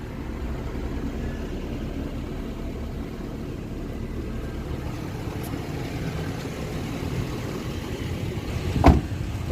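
A 2010 Maruti Eeco with its AC switched on runs at a steady low idle hum that fills the interior, with a brief soft bump near the end.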